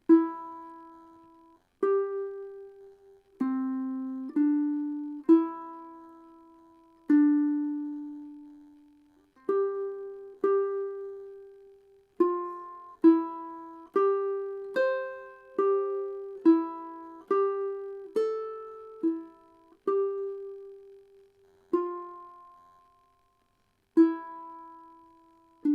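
Ukulele strummed through a chord progression, each strum ringing out and decaying, close and clear with irregular pauses between chord changes and no voices.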